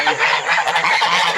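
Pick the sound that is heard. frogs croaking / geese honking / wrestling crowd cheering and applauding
geese honking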